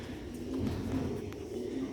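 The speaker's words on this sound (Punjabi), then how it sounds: "ਇਹ ਜੇ ਸਿਆਲਕੋਟੀ ਕਾਲੇ ਮੂੰਹ ਵਾਲੇ ਪਿਓਰ ਹਲ ਕਬੂਤਰ" A Sialkoti black-faced pigeon gives soft, low, repeated coos over a quiet background.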